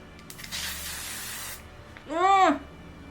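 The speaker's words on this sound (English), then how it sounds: "let me just spray this thing" A single steady hiss of aerosol setting spray lasts about a second, close by, followed by a brief rising vocal sound afterward.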